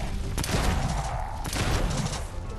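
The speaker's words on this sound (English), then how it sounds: "Let's use a shotgun on him" A shotgun fired in the zombie game Dead Island 2, two sharp booming blasts about a second apart, loud over a dense background of game noise.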